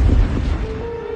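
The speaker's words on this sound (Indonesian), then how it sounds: "dari dalam suara kamar, terdengar suara ledakan." A deep, rumbling explosion fills the clip, loud and heavy at first and then fading into a low roar, in a dramatized narrated horror story set in a room.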